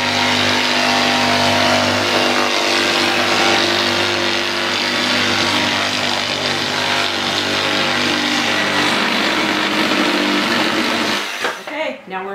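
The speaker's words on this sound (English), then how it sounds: "I'm just using my standard DeWalt jigsaw." A standard DeWalt jigsaw cuts out a holiday yard decoration, its motor running as a loud, steady, close drone for about eleven seconds before it winds down and stops.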